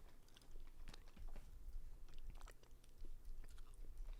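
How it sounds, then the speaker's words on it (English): Food being bitten and chewed close to the mic, with irregular crunches and soft mouth sounds over a low background hum. "Your munchy crunchy sounds are so cute."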